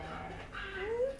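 A dog gives a short, thin rising whimper near the end, faint and close, while people talk over it.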